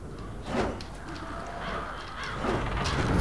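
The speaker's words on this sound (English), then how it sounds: "What's with all the crows?" Crows caw repeatedly in the video game Prototype, a dense chorus of harsh calls overlapping near and far as dusk falls, steady and fairly loud throughout with no talk.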